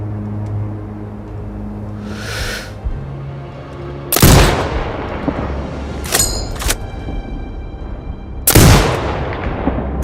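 Sniper rifle shots in the video game Sniper Ghost Warrior Contracts 2: two loud, sharp cracks with booming tails about four seconds apart, over a low ambient rumble, with a faint mechanical clack between them.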